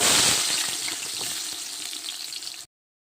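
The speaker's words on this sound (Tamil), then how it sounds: "நல்லா வெங்காயம் வதங்கிட்டு இருக்கையில் ஒரு அஞ்சு பச்சை மிளகா உள்ளே போட்டுக்கலாம்" Onions for biryani frying in hot oil with whole spices, producing a loud, dense, continuous sizzle close up that fades slightly before stopping abruptly.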